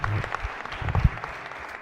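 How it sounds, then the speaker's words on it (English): Short burst of applause from the Senate gallery audience welcoming a guest during a floor session, a moderate patter of clapping that swells briefly near the middle and then thins out. "You all can give her applause for joining us today."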